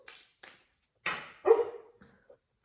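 A sleeping dog whimpers and lets out soft, muffled barks while dreaming, a few short yips and whines spread out with quiet gaps between them, close and fairly faint.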